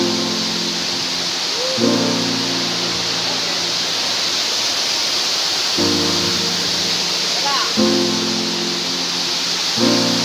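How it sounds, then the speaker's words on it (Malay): The Atu Kapur (Batu Kapur) waterfall in East Aceh pours with a loud, steady, broadband rushing roar that never lets up, while faint low tonal murmurs come and go beneath it. "air terjun sejuk Aceh Timur"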